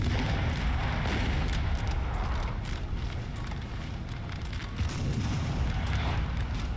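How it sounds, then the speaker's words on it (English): Artillery firing in the Napoleon Total War battle game, a continuous roaring wash of cannon fire and battlefield rumble with no clear gaps. "The artillery though has got to be hitting them hard at this point. They're still firing."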